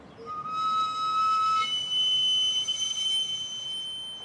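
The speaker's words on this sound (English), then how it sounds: "A little wood fire steams the potatoes and powers that piercing whistle." A piercing steam whistle from a street sweet potato seller's cart, powered by a small wood fire, sounds alone, a steady shrill tone holding for several seconds over a low rumbling background.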